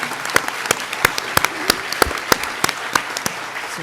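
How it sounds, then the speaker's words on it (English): Scattered applause for committee members at a high school Hall of Fame induction ceremony, with individual sharp claps ringing out irregularly in a large room, fairly loud and with no talking. "please give them a round of applause for a job very well done"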